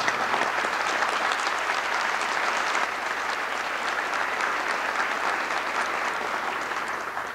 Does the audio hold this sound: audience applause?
yes